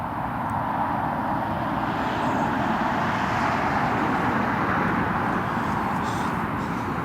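An RAF Airbus A330 approaches Newcastle International Airport, its engines a distant steady broadband roar with no distinct peaks, a continuous wash of jet noise.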